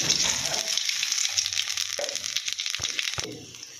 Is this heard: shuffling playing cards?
no